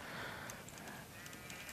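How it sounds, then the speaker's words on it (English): Sheep bleating in Minecraft, a wavering game-animal cry over a dense, noisy game background, with no one speaking. "I don't want to lose any sheep."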